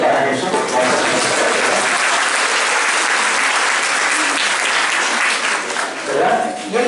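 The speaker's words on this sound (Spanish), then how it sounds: "Un aplauso para Jesús." Warm, sustained applause from a church congregation for a child, dense hand clapping filling the room at steady loudness and tapering slightly near the end, with a voice faintly mixed in.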